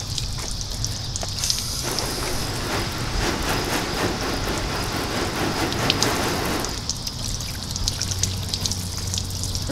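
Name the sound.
water spraying onto a freshly waxed car hood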